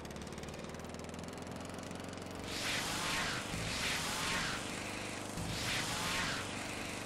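A lawnmower engine in Tony Hawk's Underground drones steadily, with three loud revving surges layered over the constant hum and game background.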